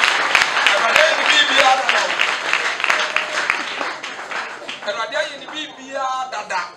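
Church congregation at a testimony service claps for Jesus, dense clapping mixed with voices and cheering, loud and close, with talk rising as it continues.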